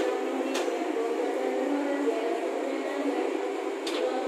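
KRL electric commuter trains, including a JR 205 series set, idling at an Indonesian railway station, a steady electrical hum and drone with faint brief hisses, no talking.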